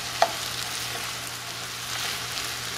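Sausage and chopped onion sizzle steadily in a pan, a soft, even hiss with a faint clink near the start and no talking.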